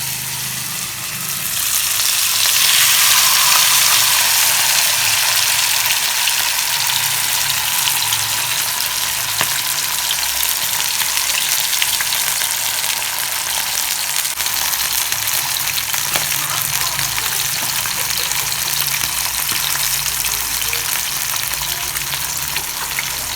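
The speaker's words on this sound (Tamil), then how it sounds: "மீனை வறுத்துக்கலாம்." Tilapia (jalebi fish) frying in oil on a dosa griddle, a loud, unbroken crackling sizzle that swells in the first couple of seconds and then holds steady, close by and without talk.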